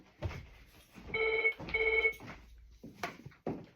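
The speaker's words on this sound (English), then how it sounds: "the phone is ringing" A telephone rings in two bursts of a bright electronic trill, fairly close, with quieter room noise and brief handling sounds between and after.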